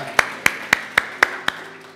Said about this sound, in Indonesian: Anda yang percaya beri tepuk tangan yang terbaik buat Tuhan kita.